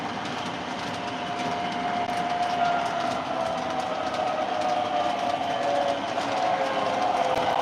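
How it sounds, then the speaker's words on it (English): Steady EMD diesel locomotive sound from an O scale model train: a sustained engine whine and drone with light rail clatter, moderately loud and continuous, no voices. "I do like the EMD sounds that they actually added in here."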